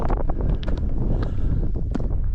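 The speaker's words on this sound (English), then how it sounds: "The wind's picking up." Wind gusts across an open mountainside in Snowdonia, a steady close rumble buffeting the microphone with faint scuffs layered in.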